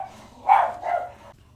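A dog barking wildly, two close, loud, hoarse barks in quick succession, then quiet, with no talking.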